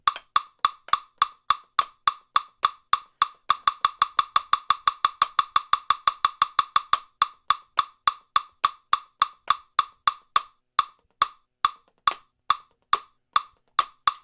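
Crisp, evenly spaced drum strokes played alone, speeding up to a fast steady stream of eighth notes in the middle, then easing back to a slower pulse.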